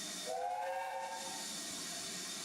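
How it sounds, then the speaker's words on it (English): A steam train whistle sounds as a long rising-and-falling tone over steady hiss of steam, then a shorter, fainter whistle note follows while the hiss continues throughout. "So this is a recording of the sound of a steam train."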